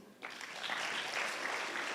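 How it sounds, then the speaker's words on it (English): Dense applause swells from a school assembly audience at an annual school day event, starting abruptly and holding steady as a broad, continuous wash of clapping from a large crowd. "Can we clap for them?"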